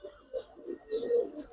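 A red-geared pigeon gives soft, low coos in a few short rising pulses, fairly faint and close, with light background noise.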